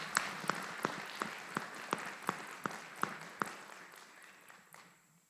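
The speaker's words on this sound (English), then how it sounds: "how about a round of applause for them?" Applause for graduates at a military aviation brigade graduation ceremony at Fort Eustis: steady, sharp claps over a broad crowd wash that gradually thins and fades, with no voices.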